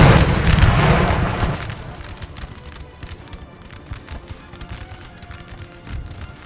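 A cannon barrage in Napoleon: Total War opens with a heavy, loud rumbling boom, then fades into scattered distant thuds and battlefield noise.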